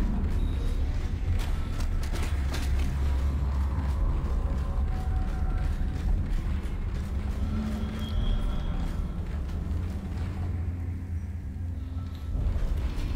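A heavy mechanical door grinds open in the sci-fi horror game Dead Space, a continuous loud churn of gears, creaks and clanking machinery that lasts throughout.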